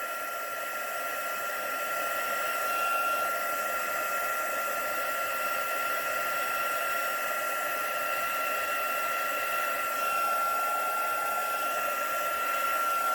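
Heat tool blowing hot air to melt embossing powder on a vellum card, a steady whirring fan hiss with a constant whine, unbroken and close for the whole duration.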